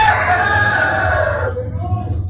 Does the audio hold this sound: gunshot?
no